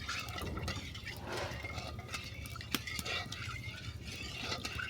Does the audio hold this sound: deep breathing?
no